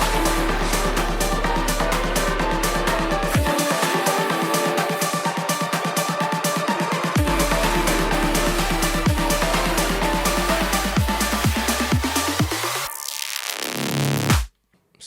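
Dark house track build-up, driving kick drums and rising layered synths that climb steadily, a sweeping riser filling the last seconds before a sudden drop-out at the end, loud and dense with no speech.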